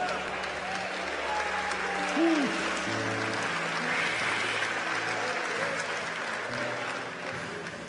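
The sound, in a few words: congregation applauding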